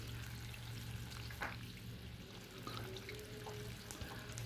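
Food fries in oil over medium heat with a soft, continuous sizzle and crackle, faint and close, with occasional small pops and no voices.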